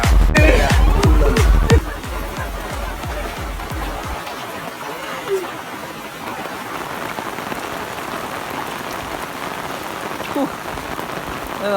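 Heavy rain pours down in a dense, even roar. A few loud rhythmic thumps open it briefly before the downpour carries on alone, steady and close.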